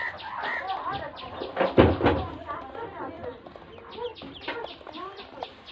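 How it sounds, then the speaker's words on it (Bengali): A hen clucks close by in a rural Bengali household, with repeated short clucks throughout, a thump near the middle, and a person talking over the birds. "ডিম মুরগিটা রেখে দিই"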